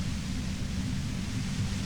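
Steady, dense white noise roars from a compressor in Disco Elysium, a constant, heavy, low-weighted hiss that stays unbroken and even throughout with no other sounds.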